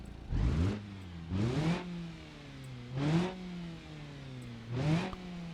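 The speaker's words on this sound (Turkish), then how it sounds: "Marş vuruyorum. Gaz veriyorum şimdi birazcık dinleyin." A simulated Tofaş car engine in BeamNG.drive cranks and catches, then revs up and settles four times in steady bursts, each rise followed by a falling idle hum, close and clear.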